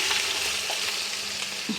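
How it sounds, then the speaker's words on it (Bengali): Chinigura rice fries in a pan for khichuri with a dense, close sizzle, broken by quick stirring scrapes from a utensil, all in a short burst without talking. "চালটা ভালো করে ভেজে নেব।"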